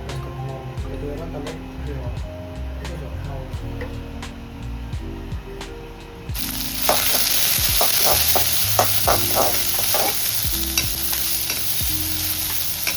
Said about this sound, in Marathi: तर आपण सगळ्याला आता गॅसवरती परतून घेऊया.